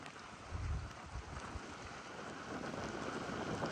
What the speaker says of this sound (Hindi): सिर्फ बारिश है।